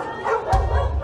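An abused dog gives a short, sharp yelp followed by a brief whimpering tail, close and loud.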